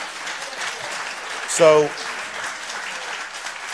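A town hall audience applauds in a steady, diffuse wash that carries through the whole moment, with a brief voice cutting in over it.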